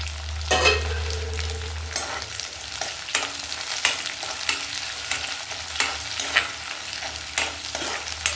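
Green chillies sizzle in a hot pan while making avarekalu uppittu, a bright continuous fry broken by repeated scraping stirs, close and fairly loud, with a low hum at the start and no talking.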